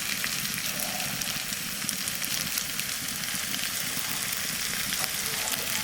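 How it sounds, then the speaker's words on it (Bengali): Dry red chillies sizzle and crackle steadily in hot oil while a pumpkin curry is being cooked, a dense, continuous frying hiss close up with no voices. "এর মধ্যে কটা শুকনো লঙ্কা দিয়ে দেবো"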